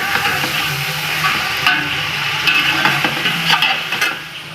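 Chicken pieces fry in a pot for pulao, a loud close sizzle broken by repeated scraping and clinks of a spoon stirring against the metal, without any voices.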